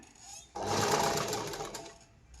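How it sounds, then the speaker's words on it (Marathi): A sewing machine runs a steady, close stitching burst along a blouse neckline, starting abruptly and whirring for about a second and a half before slowing and stopping, with no talk. "आपल्याला उजव्या साईडला शिलाई मारायची म्हणजे आपल्याला याच्यावर शिलाई मारीत चालायचे"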